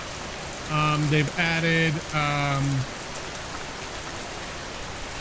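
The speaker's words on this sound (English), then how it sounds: "dynamic weather, which you can hear right now in the background with the rain" Steady rain from dynamic weather in the video game Schedule I hisses evenly throughout, with a short stretch of talk over it near the start.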